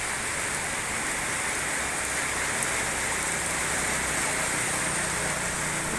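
Heavy rain pours steadily across a market area in Indonesia, a dense, unbroken hiss of drops striking surfaces with no voices, holding an even loudness throughout.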